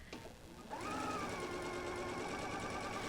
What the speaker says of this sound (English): I'm just going to take this and sew the next strip right onto there.